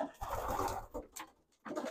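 Racing pigeons coo in a breeding loft, a few low throaty rolling calls with a short pause between them, close and clear with no talking.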